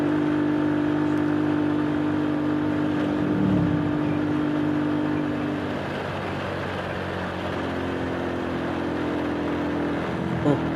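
A motorbike engine revving and accelerating uphill on a rural road near Temanggung and Wonosobo, a steady close whirring drone that eases off midway.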